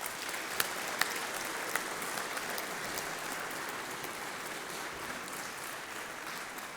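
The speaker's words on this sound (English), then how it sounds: "Let's give them a round of applause." Applause from the audience at the Lower Yellowstone annual co-op meeting, a steady, fairly faint wash of clapping lasting several seconds with a few sharper claps near the start.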